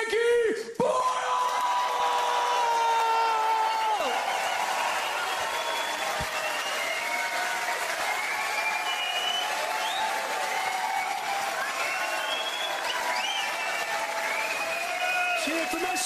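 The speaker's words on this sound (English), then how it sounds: "let's make even more noise than that" A theatre crowd at a stand-up comedy show cheers and applauds as a comedian is welcomed onstage, a loud continuous roar of clapping, whoops and shouts with a host's voice briefly audible at the start.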